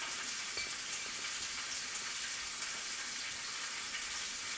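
Beef browning in a pan for beef burgundy gives off a steady, close, bright sizzle and crackle of frying that holds evenly throughout, with no talking.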